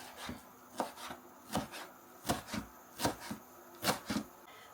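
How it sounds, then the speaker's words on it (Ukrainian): A knife chops a bunch of parsley and dill on a board, making quick, crisp strikes that come in small clusters of two or three at a steady pace, close and fairly quiet. "У мене тут ось такий пучок петрушки та пучок кропу. Я його також нашинкую."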